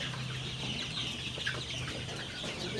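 Chickens on a Bangladeshi poultry farm cluck in a steady, overlapping chorus of short calls, close by and moderately loud, with no talking.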